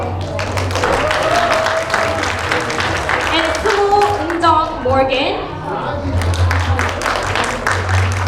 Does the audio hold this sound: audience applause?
yes